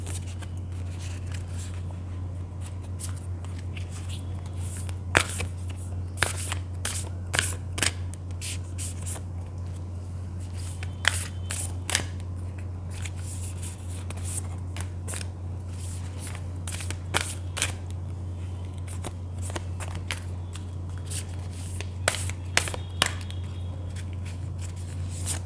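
Tarot cards are shuffled and drawn as a series of soft, scattered flicks and rustles over a steady low electrical hum, close but faint, with no talking.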